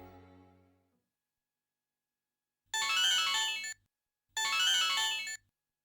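A phone ring repeats unanswered: two loud, bright electronic ring bursts about a second long each, separated by silence, after a fading earlier tone.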